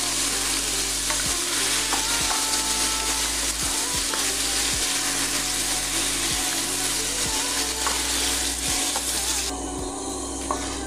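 Green beans sauté in a hot pan, a dense continuous sizzle with regular scraping stirs roughly every second, close and loud, with no talking.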